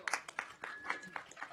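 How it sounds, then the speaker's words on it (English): Faint, scattered clapping from the audience at a city council session, a handful of distinct claps in a loose rhythm, quiet and somewhat distant. "just a big round of applause and thank you"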